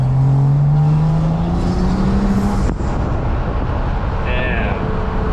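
Inside a big turbo BMW 440i on a street pull, the engine and intake climb in a loud rising drone, then cut off sharply partway through into a lower rumble.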